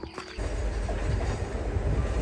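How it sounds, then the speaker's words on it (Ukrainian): A train rumbles past on the railway track near Kvasy station in a Carpathian mountain village, a steady loud low roar with wind-like hiss that builds in after a brief quieter moment. "А тут проходить залізнична колія"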